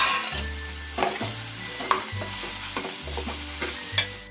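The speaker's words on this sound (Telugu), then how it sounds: "పచ్చిమిర్చి, కడిగి పెట్టుకున్న చేప ముక్కలు కూడా వేసి నూనెలో కాసేపు వేగాలి." Dried fish pieces and green chillies frying in oil, a steady sizzle broken by rhythmic spoon-and-pan scraping strokes about every second, close and clear with no talking.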